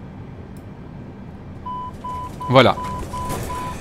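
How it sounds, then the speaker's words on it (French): An Airbus door alarm sounds in the Flight Simulator game as the cabin door opens at a jetway: a steady run of short, evenly spaced beeps begins partway through, with someone speaking briefly over it. "Vous avez l'alarme de l'Airbus qui s'est mise en route."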